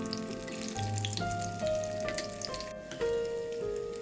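Chickpea masala vada (paruppu vadai) fries in oil in a pan over a low flame, giving a soft, steady sizzle with light crackles, quiet and close, with faint tonal sounds underneath.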